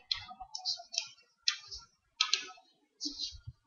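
Computer mouse clicking while saving pasted code on a website editor, giving about six short, crisp clicks at irregular intervals, close and fairly quiet, with no talk.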